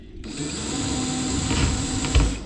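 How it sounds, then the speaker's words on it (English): A power drill bores test holes in the front deck of a Gheenoe boat, a loud steady whine starting abruptly and holding for about two seconds, ending with a brief thump. "I think I'm gonna just drill some test holes."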